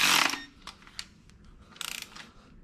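Ratchet tightening a bolt on a high-mileage Mini Cooper S R53 engine, with an opening scrape followed by sparse clicks and a quick run of rapid ratcheting clicks, close-up and alone.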